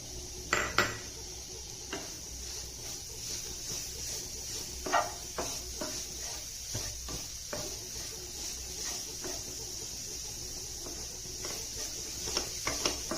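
Grated beetroot going into a pan and being stirred while cooking beetroot paratha filling, with a spoon scraping and tapping against the metal at irregular intervals over a steady background hum.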